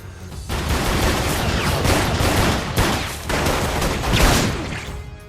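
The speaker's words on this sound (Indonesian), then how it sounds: "Ternyata suara tembakan dalam film berasal dari suara stapler." A stapler used as a film gunshot sound effect, producing a dense volley of sharp, loud bursts like rapid gunfire, repeated in close succession with brief pauses between clusters.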